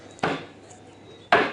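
Raw chicken is being chopped into fry-cut pieces: two heavy cleaver chops land on a board about a second apart, each a loud, close thud with a brief decay.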